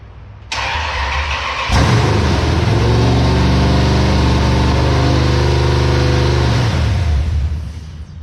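A starter whirs, then a HEMI V8 swapped into a second-generation Dodge Ram 1500 fires with a deep rumble and idles loudly and steadily nearby before winding down at the end.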